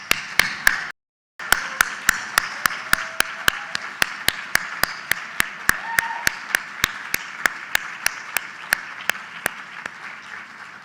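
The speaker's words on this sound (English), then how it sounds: "let's give them a round of applause" Steady audience applause at a convention welcome dinner, a sustained wash of many hands clapping that continues throughout after a brief gap near the start.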